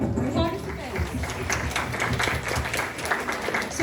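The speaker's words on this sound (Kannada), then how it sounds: "ಜೋರಾದ ಚಪ್ಪಾಳೆ ಫಾರ್ ಅವರ್" Audience applause for skit participants at a Kannada Ugadi celebration in Huntsville, Alabama, a moderate spread of clapping from a crowd that carries on steadily, with voices talking over it.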